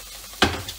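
Tuna with onion and garlic cooking in a frying pan gives a sudden burst of sizzling, as if the contents are stirred, then a steady close-up hiss.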